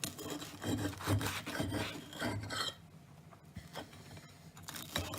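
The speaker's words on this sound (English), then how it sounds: "Now I'm going to just cut into strips." A knife saws through buttered, slightly soggy toast, cutting it into strips with close, rasping scrapes in quick repeated strokes for a few seconds. Quieter scraping and small taps follow, and no one speaks.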